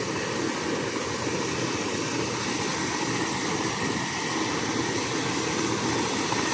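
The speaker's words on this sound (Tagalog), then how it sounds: "Andyan po yung helicopter." A helicopter at a hospital helipad during an emergency rescue produces a continuous, dense engine and rotor roar, steady and fairly loud throughout with no voices.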